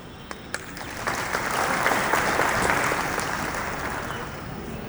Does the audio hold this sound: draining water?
no